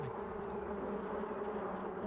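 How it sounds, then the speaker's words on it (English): Wasps buzz steadily from a wasp's nest in a storybook fairy-tale setting, a continuous close droning hum that holds level throughout with no talk over it. "There was a wasp's nest, where his heart should have been."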